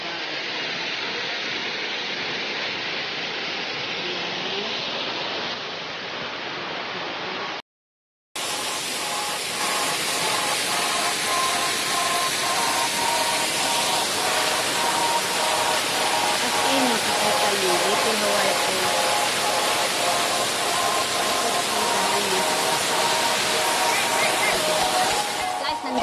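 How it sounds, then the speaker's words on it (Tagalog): Steady broadband roar of a waterfall at Little Hawaii Falls in Hong Kong, loud and continuous apart from a brief dropout, with a voice talking faintly beneath. "Nandun pala yung pinakamalaking falls ng Little Hawaii."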